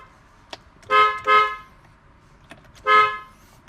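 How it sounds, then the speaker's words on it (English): A Tesla car horn, checked after installing a yoke steering wheel, honks three times: two quick blasts close together, then a pause and a third, loud and close, with faint clicks between. "make sure the horn works"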